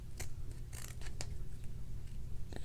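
Scissors snip through a small plastic Lego clone figure part in a few quick, crisp cuts, close up over a low steady background hum.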